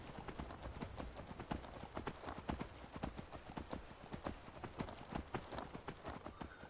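Shadowmere, the undead horse in the video game Skyrim, trots along with rapid, rhythmic hoof clip-clops, a steady run of sharp hits lasting several seconds at a fairly quiet level.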